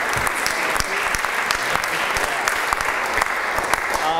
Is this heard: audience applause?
yes